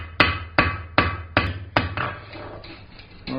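Five quick, ringing metallic strikes from the flat face of a hammer planishing a forged steel ball end on a coat and hat hook, evenly spaced and close, then lighter taps and a final knock.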